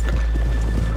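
Hooves clip-clop along with a horse's whinny over a steady low rumble, close and continuous for a brief moment. From the video game Red Dead Redemption 2.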